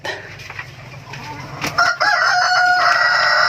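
Rhode Island Red hens cluck in a breeding pen while a rooster crows loudly and close, the crow rising and holding over the hens' background clucking, with no talk.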